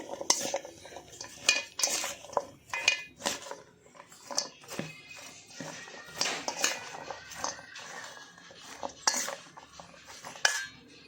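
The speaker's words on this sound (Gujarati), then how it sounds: "હવે આપણે જે મસાલો કર્યો તેને અંદર મિક્સ કરી લેવાનો છે" A spoon mixes spice masala into fresh turmeric pickle in a steel bowl, giving repeated close clinks and scrapes in an irregular rhythm.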